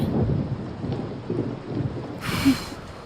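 Steady rain falls with a low rumble of thunder and a brief hiss of heavier downpour, continuous and moderately loud with no speech, in a scene from a Kannada-dubbed film.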